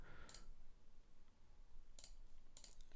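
A computer mouse gives a few sharp, very quiet clicks, one near the start and a pair of quick double clicks later, over a faint room hiss.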